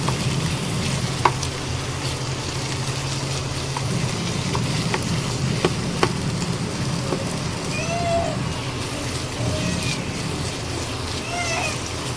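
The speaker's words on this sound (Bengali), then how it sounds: "এবারে ভালোভাবে খোয়াটাকে মিশিয়ে দেবো" Khoya is stirred into bottle gourd halwa in a pan, making a dense, steady hiss and scraping rustle that continues for the whole stretch, with a few faint chirp-like sounds toward the end.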